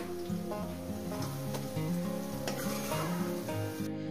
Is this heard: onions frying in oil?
yes